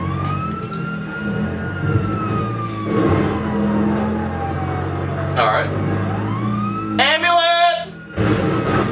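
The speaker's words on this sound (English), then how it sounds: "you must drive to the hospital emergent, so lights and sirens" A wailing ambulance siren in a video game, sweeping up and down beneath engine rumble, with someone talking over it and a burst of sharp rapid yelping near the end.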